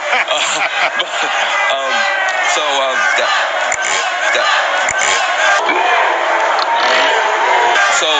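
A large crowd at a political rally booing and shouting, a loud, continuous roar of many voices that holds steady for the whole stretch with no single speaker standing out.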